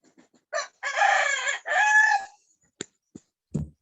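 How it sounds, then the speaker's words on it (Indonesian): A rooster crows once nearby, a loud drawn-out call in several rising and falling parts, followed by a few faint clicks in an otherwise quiet setting. "Waduh, ada ayam."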